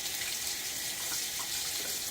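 Tap water runs steadily into a sink for rinsing after a wet shave with a safety razor, a close, even hiss that fills the short moment on its own without any voice.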